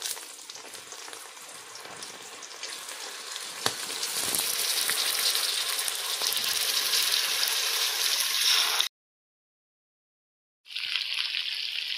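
Jujubes sizzle in hot oil with mustard seeds for a pickle, a steady hissing fry that swells louder midway, cuts out briefly, then resumes.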